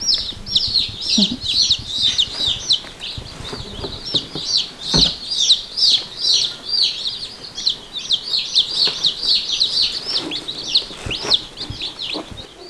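Many baby chicks peep constantly in high, rapid chirps close by, a busy, overlapping chorus with faint rustling underneath.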